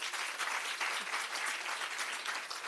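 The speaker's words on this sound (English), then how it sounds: "Can you clap them?" Audience applause at a launch event: a dense, even burst of many hands clapping for a few seconds, moderately distant and with no voices over it.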